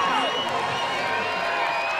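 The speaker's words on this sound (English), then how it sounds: "This crowd coming to life." Crowd at an LFL football game near the goal line, a loud, sustained roar of cheering and whooping with high voices, heard close and filling the whole stretch.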